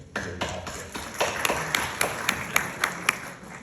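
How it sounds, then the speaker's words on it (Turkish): Audience at a university talk in Mersin claps for the visitors: a modest, fairly close run of distinct claps in a steady, even rhythm, roughly three to four per second, from only a few hands, with no speech over it. "Sizi de alkışlıyorum."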